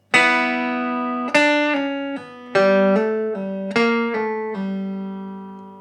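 A rockabilly electric guitar solo rings out alone, with bright sustained notes joined by quick legato hammer-ons and pull-offs, in about five clear phrases that each start with a fresh attack.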